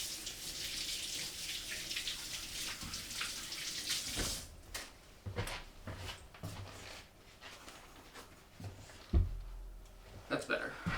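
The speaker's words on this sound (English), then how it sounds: "I'm also going to just wash this off my hands real quick" A kitchen tap runs steadily while someone rinses food mess off their hands, a close hiss of flowing water that fades after a few seconds into clatter, splashes and light handling noises.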